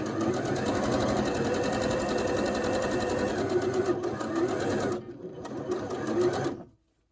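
A sewing machine stitches a curved quilt seam for a colorblock block, a steady fast whirring hum that stops briefly near the end, then runs again before cutting off to silence.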